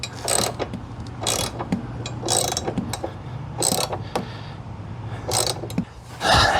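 A wrench ratchets in repeated short bursts while fitting a pannier rack to a Honda NC750X motorcycle, each clicking run close and crisp, separated by pauses, with a low steady hum underneath.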